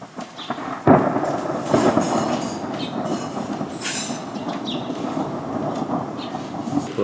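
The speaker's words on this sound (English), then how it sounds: "and a big storm brewing up in the hills." Thunder from a storm over the hills around Hallstatt rolls loudly and continuously, a deep rumble with a few sharper cracks swelling through it as night falls.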